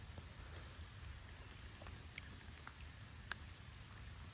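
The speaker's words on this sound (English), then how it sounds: "it was thunderstorming, but it's just raining now" Steady rain patters softly and evenly at a campsite after a thunderstorm, with a couple of sharper drips standing out against the gentle hiss.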